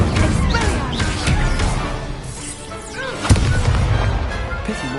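An Incendio fire spell cast during a video game duel, a dense burst of fiery crackle and impacts with a sharp bang near the end, loud and close.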